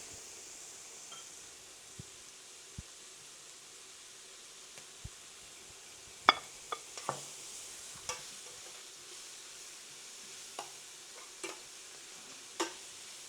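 Sliced onions sautéing in a pan with turmeric and salt, a faint low sizzle under scattered sharp clicks and scrapes of a spoon stirring, quiet and close throughout.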